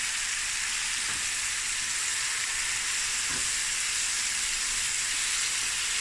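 Pilchard frikkadel mixture with parsley and dhania frying in a pan, a steady bright sizzle running evenly throughout with a couple of soft stirring knocks, no voices.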